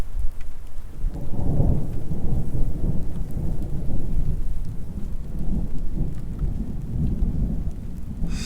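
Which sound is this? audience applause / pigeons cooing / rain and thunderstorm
rain and thunderstorm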